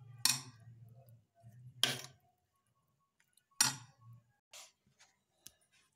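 Raita ingredients being mixed in a bowl, a few sharp spoon clinks against the bowl with soft scraping between them, spaced out and fading toward the end.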